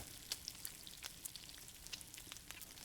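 Tomahawk steak with rosemary searing on a flaming grill, a quiet steady sizzle with scattered crackles and pops, faint and continuous.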